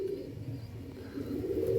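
A pigeon gives soft, low, repeated cooing that stays fairly quiet and close, rising a little toward the end.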